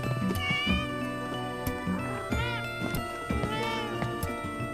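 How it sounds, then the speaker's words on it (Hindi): Several cats meow in a cat cafe, a string of high, whiny calls over a continuous background score, with no talking. "इन बिल्लियों को निकालो।"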